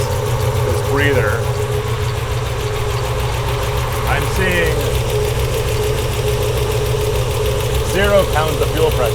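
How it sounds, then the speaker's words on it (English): A Gen III HEMI V8 idles steadily with blow-by venting from its breather, a constant low mechanical hum running throughout while someone talks intermittently over it. "I'm seeing a motor that seems to be idling okay."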